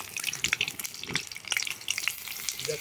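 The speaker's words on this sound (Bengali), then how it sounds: "এখন বানাচ্ছি কুমড়ো ফুলের বড়া" Pumpkin flower fritters in gram-flour and rice-flour batter sizzle steadily in hot oil over a wood-fired stove, a close, continuous crackle and spatter with no voices.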